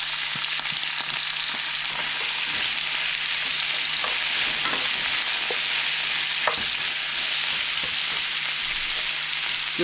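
Cucumber stir-frying in hot oil with garlic gives a steady, loud hiss that holds without a break, marked by a few light clicks of a spatula against the pan.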